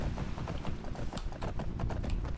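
A horse galloping in Skyrim, rapid rhythmic hoof clops sounding close and steady across the whole stretch, with no voices over them.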